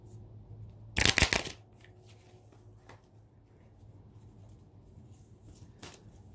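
Oracle cards being shuffled for a reading: a short, loud riffle of cards about a second in, then quiet room tone with a few faint, soft handling sounds later on.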